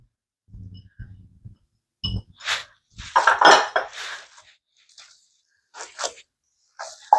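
Cabbage roll filling with vegetables being mixed in a bowl, with scattered clinks and knocks of a utensil against the dish and soft squelchy stirring in irregular bursts, close by.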